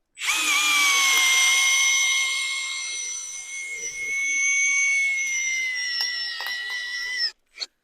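A Vitals PAU 1870 BS SmartLine drill driver strains under load while splitting ash wood, a loud steady whine with strong harmonics that sags and rises for about seven seconds before cutting off abruptly, followed by a brief final burst.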